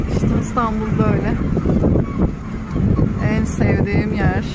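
Several seagulls call in short, squawking bursts in Istanbul over steady wind and a low background rumble, with a brief voice mixed in.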